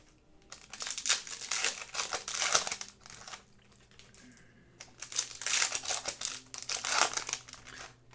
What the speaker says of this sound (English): Let's rip and stack this because it is a lot of packs with 4 cards per pack